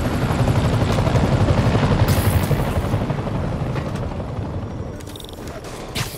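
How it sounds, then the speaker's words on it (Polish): Loud helicopter rotor thumping and engine roar dominate at first in the video game Spider-Man on PS4, then gradually fade, with a couple of sharp impacts near the end. "Helikopter!"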